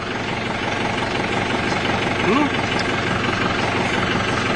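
A tractor engine runs steadily in a Rajasthan village, a loud, continuous, rumbling drone that fills the whole stretch with little change, with a brief voice-like sound rising over it midway.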